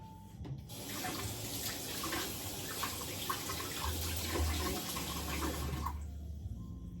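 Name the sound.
water running while rinsing a blender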